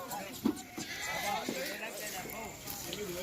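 Goats bleat repeatedly at a goat farm during loading, several calls overlapping and varying in pitch, with people talking and shouting among them and steady background noise.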